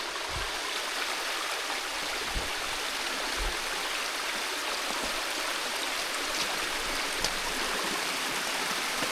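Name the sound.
small waterfall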